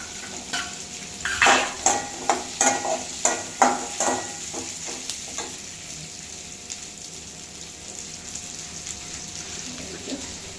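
Tomato chutney with coconut sautéing in a pan: a run of quick, rhythmic metallic scrapes of a spoon stirring over a soft sizzle, then the stirring stops and a low steady frying hiss continues.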